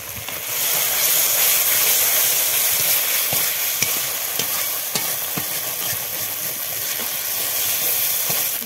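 Chopped tomato tipped into a turmeric spice paste in a hot pan, with a loud, steady sizzle and hiss that continues throughout, close up and with no talking.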